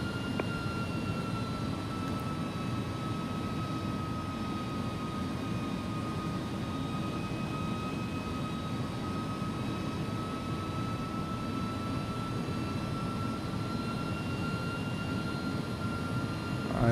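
Airbus A300-600R jet landing in X-Plane 11, a steady engine roar with a faint high whine lasting throughout, fairly quiet and unbroken.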